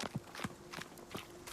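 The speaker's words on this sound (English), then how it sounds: "That horse picks up at a smart trot" A horse trotting briskly, its hooves striking in a steady clip-clop rhythm of distinct close knocks, fairly faint and alone.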